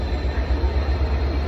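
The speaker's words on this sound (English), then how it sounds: "freight liner going by, so excuse the noise" A Freightliner freight train passes close by, a loud, steady low rumble of wheels and wagons rolling along the rails without pause.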